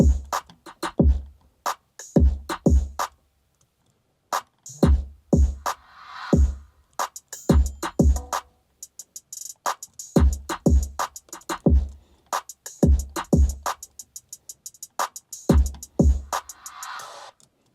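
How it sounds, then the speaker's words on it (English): A hip-hop drum mix with heavy clipped, crushed kicks and sharp snares and hats hits in a punchy, repeating groove, loud and dry with short gaps between phrases. "So the drums all together sound like this."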